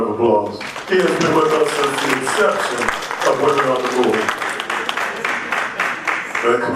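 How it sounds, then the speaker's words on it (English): Audience clapping at a 2019 Women on the Move awards event runs steadily under an announcer's amplified voice for the length of the clip. "Let's give him another round of applause."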